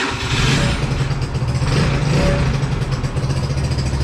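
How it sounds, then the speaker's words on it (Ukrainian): A small Chinese 80cc scooter engine starts and runs loud and close, its pitch rising and falling as the throttle is blipped a few times, with steady harmonic buzz throughout. "Продемонструю вам, як він заводиться. Чуть-чуть газку."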